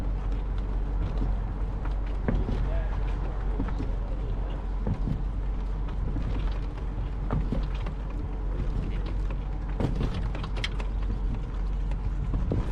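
Vehicle carrying a RockyMounts HighNoon FC hitch bike rack for three bikes, driving over alternating speed bumps; continuous road rumble with repeated irregular knocks and rattles from the rack, fairly close, no talk.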